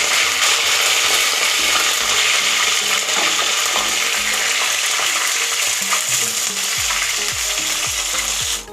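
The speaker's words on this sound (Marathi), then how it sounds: "आता यामध्ये आपण जो कढीपत्ता धुवून आणि निथळून घेतलेला आहे तो कडक तळून घेणार." Washed, drained curry leaves deep frying in hot oil for poha chivda, a loud continuous crackling sizzle that stays steady throughout, with faint low bubbling toward the end.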